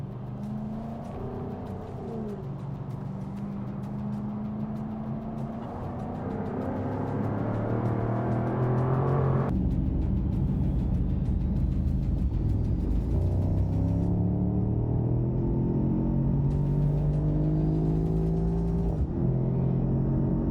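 Two 2023 roadsters, a Mercedes SL63 AMG and a Jaguar F-Type R, accelerating hard from about 70 in a roll race, a loud continuous engine roar rising in pitch with an upshift midway, then climbing again, no voices.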